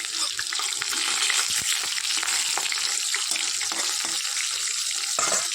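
Fish frying in a home kitchen pan, a loud, steady, dense sizzle with crackling pops running throughout, heard alone without talk.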